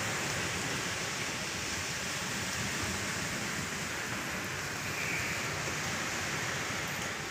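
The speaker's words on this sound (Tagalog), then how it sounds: "Sarap ng tunog ng dagat." Steady, dense roar of sea waves washing continuously at a beach in San Joaquin, Iloilo, at dawn, loud and unbroken with no voices.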